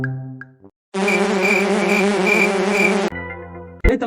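A loud, steady mosquito buzz drones continuously for about two seconds, close and alone, framed by brief tonal sounds before and after.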